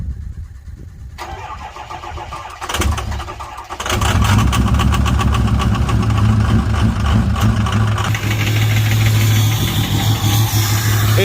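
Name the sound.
6.0 engine idling and running rough, needing injectors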